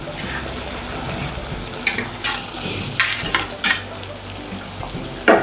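Deep-fried veg manchurian balls tossed and stirred in sauce in a pan, giving a steady wet sizzle with repeated scraping and knocking of the spoon, close and moderately loud, no voices.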